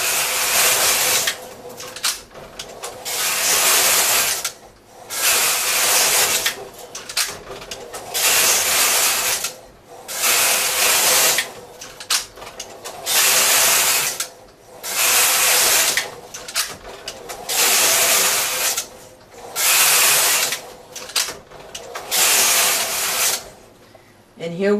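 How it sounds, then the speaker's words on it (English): SK360 knitting machine with Yarn Changer 5 knitting double jacquard, rhythmic back-and-forth swishing rattles as the carriage passes, repeating regular strokes with brief gaps, close and steady. "So just continue knitting until you see this letter C on the card for"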